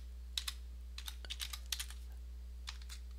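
Computer keyboard typing code in short clustered bursts of keystrokes with brief pauses, close and fairly quiet over a steady low electrical hum.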